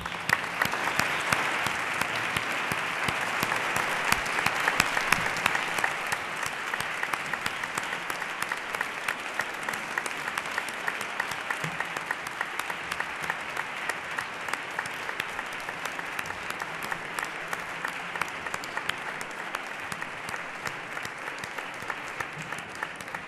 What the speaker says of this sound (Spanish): los vamos a recibir con un gran aplauso